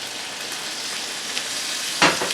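Sherry added to a hot pan of Christmas gravy makes a continuous steady sizzle, with a sharper spluttering burst near the end, alone and without talk.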